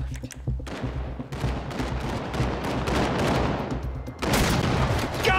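Sustained gunfire in a GTA RP city street during a purge event, dense overlapping bursts of shots at steady loudness with a louder volley near the end.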